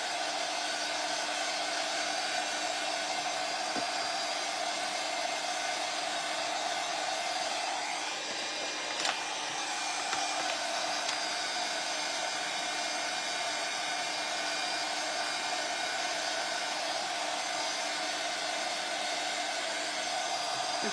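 A hair dryer blows on wet paint on a flexible resin mould with a continuous close whoosh. The airflow dips briefly partway through, then resumes at the same steady level, and no one speaks.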